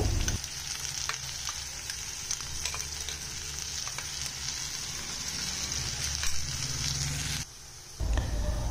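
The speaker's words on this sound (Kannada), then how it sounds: "ಈಗ ಮಸಾಲಾನ ಫ್ರೈ ಮಾಡ್ಕೊಳ್ಳೋಣ" Masala spice paste frying in a pan for a radish dish, a steady broadband sizzle running for about seven seconds with faint scraping stirs, then a brief lull before the frying picks up again.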